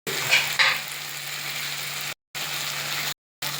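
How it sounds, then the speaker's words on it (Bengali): Masala for a pea curry sautéing in a pan, a steady close sizzle with a few brief stirring scrapes near the start, broken by two short cuts to silence. "তো আমি আরও কিছুক্ষণ কষবো"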